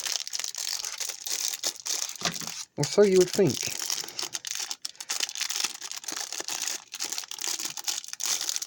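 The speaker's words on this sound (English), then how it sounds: "let's get these crackers out. You know what, let's use scissors" Plastic wrapping on a cracker packet from a Russian 24-hour military ration crinkles and rustles up close as scissors cut it open, with someone talking briefly partway through.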